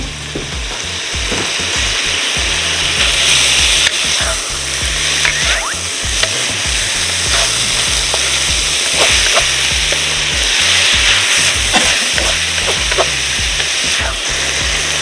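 Chopped tomatoes fry in oil in a pan while nam prik ong is cooked, giving a loud, continuous close-up sizzle with crackling bursts and occasional stirring scrapes, and no voices.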